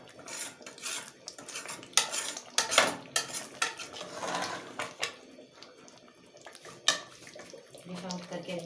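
Spiced potato slices being scooped from a pan into a dish, with scattered clinks and scrapes of a metal spoon against cookware coming in uneven bursts, fairly quiet and close.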